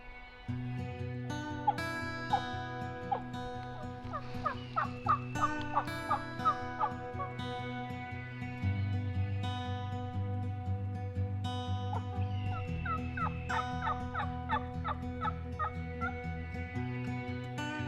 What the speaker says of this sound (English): we got a turkey gobbling like pretty much every direction